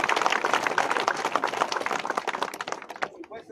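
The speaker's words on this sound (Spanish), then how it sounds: "También con un aplauso también aquí" A crowd at a street paving inauguration in San Miguel, San Ildefonso Ixtahuacán, claps vigorously, a thick, rapid patter of many hands that holds steady, then thins out and fades at the end.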